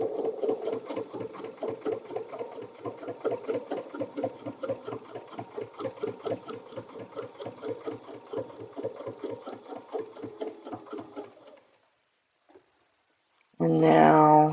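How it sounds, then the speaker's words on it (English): A sewing machine stitches steadily over an appliqué connector on a holiday garland piece, a fast, even mechanical chatter running for about eleven seconds before stopping, followed by a short louder sound. "we're going to stitch over our connector"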